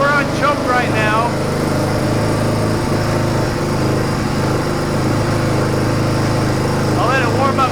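A dirt bike engine runs on choke, a steady, loud, close single-cylinder drone that holds mostly even with slight rises, a faint voice briefly over it near the start.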